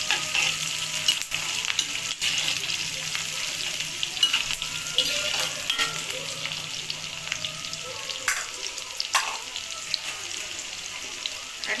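Garlic with onion frying in oil for egg curry, a steady close sizzle with occasional spoon scrapes and knocks against the pan as it is stirred.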